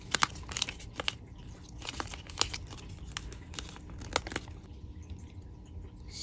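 Origami paper being creased and folded, a run of crisp crinkles and sharp crackling snaps at close range, irregular and fairly quiet with no talking.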